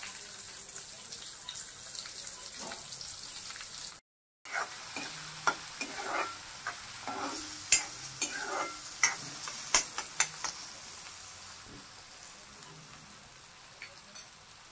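Chopped onion dropped into hot oil with asafoetida for a snake gourd dish, sizzling steadily for about fourteen seconds, broken by a short silence and then a run of sharper stirring clinks and scrapes over the low fry.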